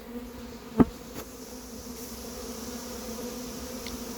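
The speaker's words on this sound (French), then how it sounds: "il y a plein d'abeilles qui se mettent autour maintenant" A honeybee swarm hums around a hive being settled outdoors, a soft continuous buzz with a single sharp knock near the start and no talking.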